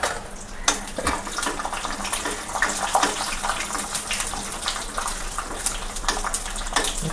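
Peanuts frying in hot sesame oil with popped mustard seeds, producing a dense, continuous crackling hiss that stays loud and close throughout, with no voices.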